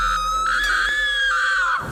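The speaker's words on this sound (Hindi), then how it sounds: "आराध्या जोर से चीखी" Woman screaming loudly as a horror story sound effect, a single sustained high shriek lasting nearly two seconds, loud and close with no talk over it before it cuts off abruptly.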